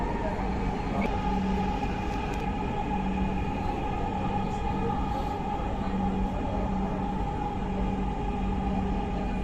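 Dhaka metro train at Karwan Bazar station: a steady, loud rumble and hum from inside the moving carriage, with a faint tonal whine running through it.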